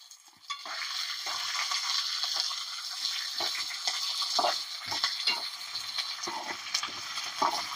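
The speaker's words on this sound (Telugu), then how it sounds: "ఇప్పుడు మిరపకాయలు కూడా వేసుకుందాము. అవి ఇవి అన్నీ వేగుతాయి మంచిగా, నువ్వులు గిట్లా అన్నీ" Green chillies and sesame seeds frying in hot oil for a green chilli pachadi, a steady close sizzle and crackle with scattered pops and brief stirring scrapes throughout.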